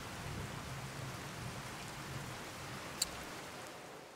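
Steady rain in the video game Fallout 4 hisses and patters evenly throughout, broad and continuous, with a single sharp click near the end and no voices.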